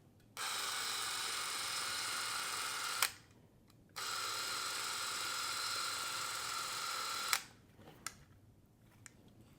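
A vintage 8mm film camera mechanism running in two steady whirring bursts of a few seconds each, separated by a short pause, each ending with a click, fairly close and alone.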